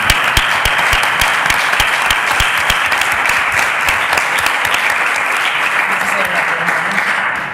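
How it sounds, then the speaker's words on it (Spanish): Applause from a conference audience at a round-table panel, loud and sustained throughout, dense clapping that thins slightly near the end. "Aparte de los aplausos, muchas gracias."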